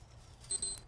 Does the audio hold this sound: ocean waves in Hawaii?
no